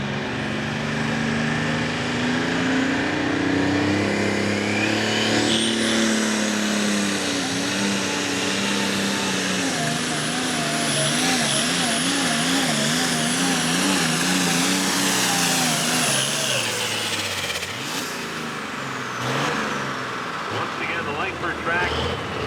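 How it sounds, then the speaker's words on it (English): An International 1206 tractor pulls down the track at a tractor pull in Langford, New York, its loud engine droning steadily with rising and wavering pitch for most of the run, then dropping off near the end while an announcer talks over it. "The Powerhouse International 1206 comes to the line."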